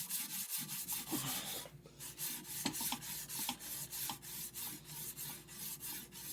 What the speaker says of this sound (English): Now it's sharpening on the tip of the stone, tip of the chisel, I should say, as well as on the heel.